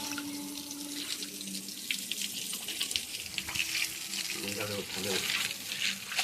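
Water pours steadily over a big fish being cleaned in a basin, with a soft rushing splash and a few faint clinks.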